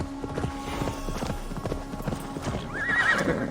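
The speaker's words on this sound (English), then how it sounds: "Stop trying to run up the horse's ass, Eivor." Horse hooves clip-clop in a steady rhythm in Assassin's Creed Valhalla, joined near the end by a loud, close neigh, with game music beneath.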